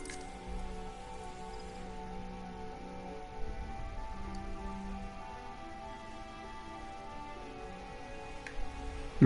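Rain falls steadily in the Final Fantasy XIV game world, a soft even patter layered over faint sustained tonal ambience and occasional light taps.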